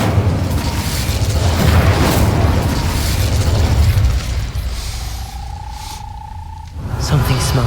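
A fiery Incendio spell blast in Hogwarts Legacy erupts with a loud booming rumble and crackling roar that fades into a tonal hum before a few lighter pops.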